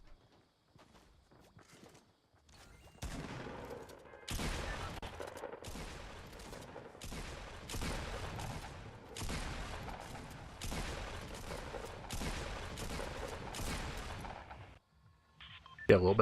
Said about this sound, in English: Get a little bit of shotgun practice in there.